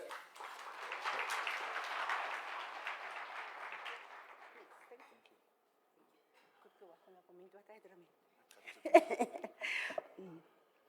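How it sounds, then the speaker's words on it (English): Audience applause at a grants handover ceremony, a steady crowd clapping for about four seconds that fades out, followed by quiet and then a voice speaking near the microphone. "Please give a warm round of applause to our Deputy Minister of Finance."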